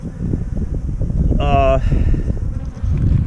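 Honey bees buzz around nuc hives in a bee yard, one passing close with a brief clear drone over a steady low rumble of wind and background noise.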